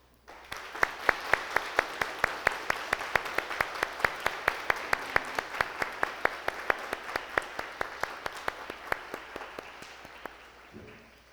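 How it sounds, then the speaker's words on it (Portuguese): A church congregation, standing at a Lutheran service, applauds new members with steady, sustained clapping that holds for about ten seconds and fades at the end, with no talk over it. "eu peço que nos coloquemos em pé e os acolhamos com aplausos"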